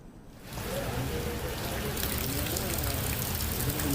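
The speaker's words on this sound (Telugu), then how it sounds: "ఈదురుగాలులు ఉరుములు మెరుపులతో కూడినటువంటి చిరుజల్లులు కురుస్తున్నాయి" Rain showers with gusty wind fall in Hyderabad, starting quiet and then swelling into a steady, close hiss that continues evenly to the end.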